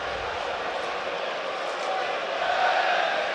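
Football stadium crowd at a Leeds United versus Hull City match, a broad steady roar and murmur of thousands of fans reacting to a lost possession, continuous and fairly loud with a slight swell toward the end.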